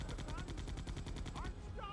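Rapid automatic gunfire from the Resident Evil 2 video game, a steady fast stream of loud, close shots lasting nearly two seconds, with game sound effects faintly underneath.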